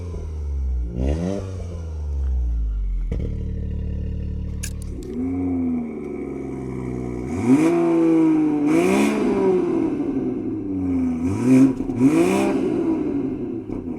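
Three Toyota GR cars, a Supra, a Corolla and an 86, rev their engines one after another in loud, close rising and falling blips, with no talk over them.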